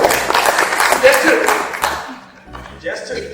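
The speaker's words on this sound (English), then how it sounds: "let's give a round of applause" Audience applause at a District 27 Jeopardy! event, a dense wash of clapping that swells, thins briefly, then picks up again, with voices mixed in.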